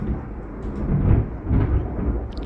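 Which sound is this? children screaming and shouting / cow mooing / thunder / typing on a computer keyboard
thunder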